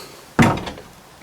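A door in a workshop thuds open or shut with a single sharp, close wooden knock that fades quickly into the quiet room.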